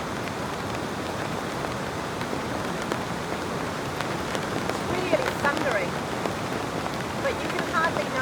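Heavy rain drums steadily on a camping tent during an all-night downpour, a dense, close, even patter throughout with a few brief sounds on top.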